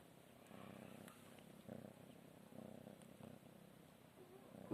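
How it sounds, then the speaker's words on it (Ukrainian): A cat purrs softly, close by, in a faint continuous rhythmic rumble that rises and falls in regular pulses against a quiet background. "Ой, мурчить."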